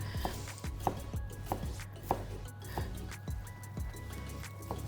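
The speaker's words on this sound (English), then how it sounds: "You want to slice them up and cut them quite chunkily." A knife cuts cooked lobster into chunks on a board, giving a series of soft, regular chops close by. A low steady hum runs underneath.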